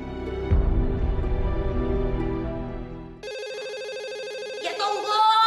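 A home telephone rings with a steady electronic tone, starting under a loud background rumble that drops away, then trilling clearly and close on its own.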